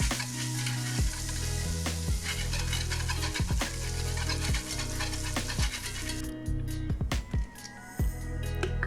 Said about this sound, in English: add us 3 tablespoons of butter to that same pan that our bacon came out of